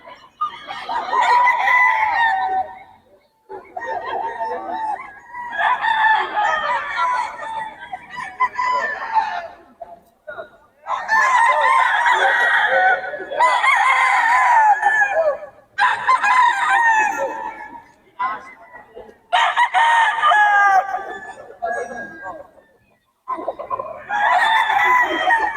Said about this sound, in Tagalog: Quality mga manok nito ni Boss M.